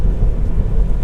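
Rain drums on a Tesla driving with Full Self-Driving, blending with a steady low road rumble that fills the cabin closely and continuously, with no voices.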